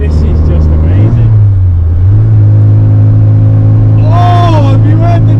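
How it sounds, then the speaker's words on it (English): Small 1-litre car engine revved hard through corners on twisty roads during the London to Brighton run, a loud close drone that climbs and dips between gears, with voices talking over it. "All you need is a little 1 litre engine, a bubbly car, and just hammer it into the corners with just a rev between gears"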